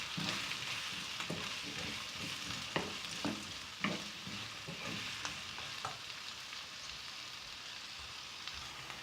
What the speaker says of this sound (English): And fry the onions until it turns light brown in color.